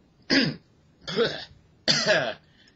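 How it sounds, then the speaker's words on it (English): Three harsh coughs, each about half a second long, come one after another with short pauses between them, close and fairly loud. "coughed on something there. Sorry."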